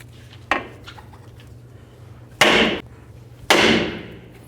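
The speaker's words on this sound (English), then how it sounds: "we're going to continue on to hitting right here with our hammer to try to break the lower ball joint free" A hammer strikes a lower ball joint on a 2007-17 Ford Expedition front suspension three times, loud sharp metallic blows ringing out separately over a low steady hum.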